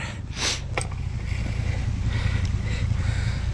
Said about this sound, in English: There comes the water.